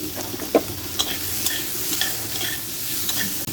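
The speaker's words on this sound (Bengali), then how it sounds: "একটু সামান্য নুন দিয়ে ভেজে নেব।" Capsicum frying in oil with a little salt in a kadai, a close, steady sizzle with occasional stirring clicks and scrapes, no voices.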